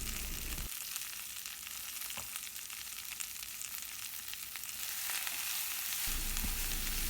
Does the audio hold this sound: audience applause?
no